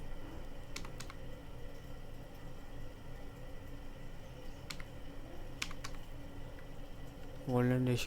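Keys clacking on a computer keyboard as a search query is typed, a few separate bursts of quick taps spread over a steady low room hum, with a louder thump near the end.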